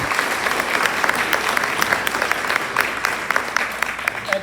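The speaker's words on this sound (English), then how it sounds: "Another round of applause for all of those middle school champions." Sustained applause from an audience at a board of education meeting, honoring middle school champions; dense, steady clapping throughout, fairly loud, with no talking over it.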